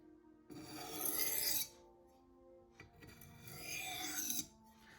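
A MagnaCut steel knife edge drawn across a sharpening stone in two light passes, each a smooth close rasping scrape lasting about a second, separated by a quiet gap.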